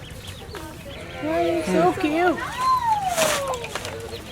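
Baby chick chirping on a farm, near ducks and ducklings, with thin high peeping calls rising and falling over a couple of seconds while people talk close by.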